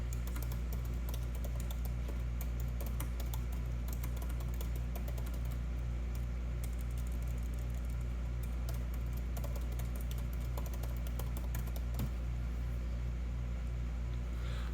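Typing on a Surface tablet keyboard, a steady stream of soft key clicks over a constant low engine-like hum, with no one talking.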